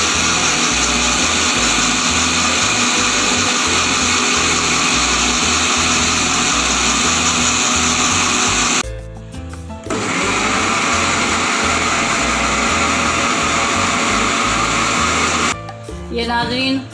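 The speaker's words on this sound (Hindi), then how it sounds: "अब इसको मैं ब्लेंड करती हूँ 5 मिनट के लिए।" Electric blender whirring steadily as it blends sugar with coffee powder for a homemade cappuccino, loud and continuous with two short pauses partway through, no talking over it.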